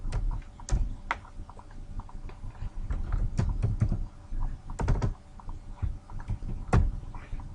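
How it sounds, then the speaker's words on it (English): Someone types on a computer keyboard up close, tapping in irregular bursts of keystrokes with short pauses between, fairly quiet and with no voices. "I'll type in kite surf."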